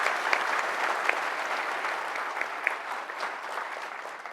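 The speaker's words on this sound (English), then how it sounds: "please give a big round of applause to our panel this morning" A conference audience at a keynote panel applauds steadily, an even wash of many hands with a few sharper claps standing out, sustained from start to finish without speech.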